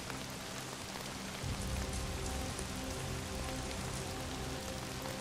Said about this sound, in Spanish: El sonido de la lluvia, no sé, me encanta mucho